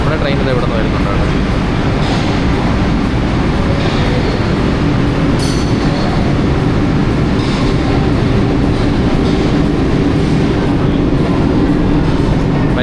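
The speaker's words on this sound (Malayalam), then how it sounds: "നമ്മുടെ ട്രെയിൻ ഇത് ഇവിടെ നിന്ന് വരുന്നുണ്ട് കേട്ടോ" An old Lisbon metro train pulls into the station, loud sustained rumble of wheels and carriages with faint squeals and clatter, a voice talking briefly over the noise.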